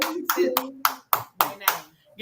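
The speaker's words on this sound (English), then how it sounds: "Give my own self a round of applause." Seven crisp, separate hand claps in a slow, steady rhythm, loud and close, with brief gaps of quiet between each one.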